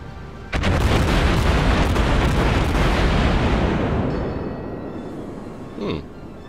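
Big naval guns fire in World of Warships: a heavy blast opens a sustained, booming rumble that slowly fades, followed by a smaller thump near the end, with no talking over it.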